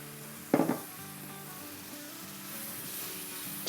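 Garlic, ginger and masala spices frying in a pan over a medium-high flame for a spiced okra (bhindi) dish, a sudden loud burst of sizzle as something hits the oil, settling into a steady low frying hiss.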